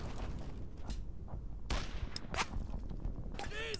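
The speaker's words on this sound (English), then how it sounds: "Jesus, they're shooting at me!" Gunfire aimed at the player in the World War II shooter game Brothers in Arms: Earned in Blood, with several sharp shots and bursts cracking over a rumbling battle din and a voice in the background.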